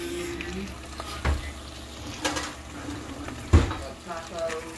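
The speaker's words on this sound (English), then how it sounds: "We can make us a stir fry like this too." Cut potatoes are stir-fried in a pan with a low sizzle and a few scraping and clattering knocks of the utensil against the pan, nearby, with someone speaking faintly.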